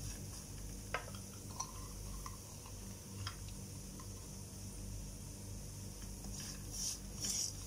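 A spoon stirs roasted semolina and chopped carrot in a pan, giving faint scrapes and a few light clicks against the metal over a quiet, low sizzle, without any talk.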